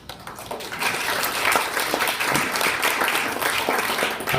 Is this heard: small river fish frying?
no